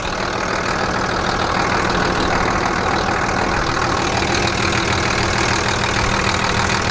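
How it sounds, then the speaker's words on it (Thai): The original six-cylinder Isuzu diesel engine of an Isuzu TXD40 six-wheel dump truck idles steadily and loudly, a constant rumbling drone with no change in pace throughout. "เครื่องยนต์อีซูซุ6สูบเดิมนะครับ เสียงดังหน่อยนะครับขออภัย"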